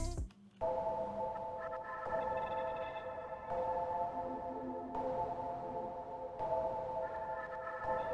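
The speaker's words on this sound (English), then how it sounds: "a chaos pad, very chaotic pad" Very chaotic synth pad built in the Portal plugin for a dark trap melody, a dense sustained drone with shifting tonal layers that cut and re-enter in steady blocks, heard alone and moderately loud.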